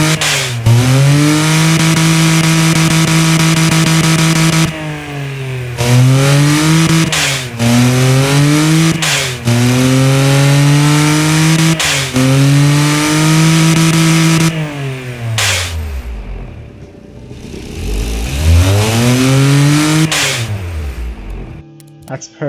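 A simulated 3-cylinder, 300 hp track car engine with a carbon fiber intake manifold, three individual throttles and a sporty exhaust, revved hard in the Automation game: loud, close, repeated sharp rev blips, then two long drawn-out sweeps down and back up.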